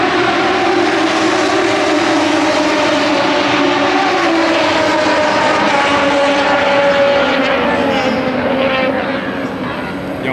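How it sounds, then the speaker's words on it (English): Loud, continuous engine roar fills the clip as MotoGP racing motorcycles rush past nearby at the Circuit of the Americas, the noise swelling and fading slightly without a break. "When them bikes come flying by, it's so loud."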